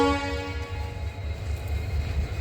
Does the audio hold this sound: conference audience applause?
no